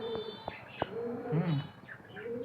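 Australian doves coo softly and low at close range in a quiet setting, with a few faint clicks around the calls.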